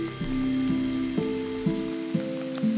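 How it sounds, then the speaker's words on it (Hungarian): Heavy rain pours down in an oak forest, a steady hiss of drops heard throughout and mixed with a soft music bed of sustained low tones. "Szerencsére errefelé nem ritkák a kiadós eső."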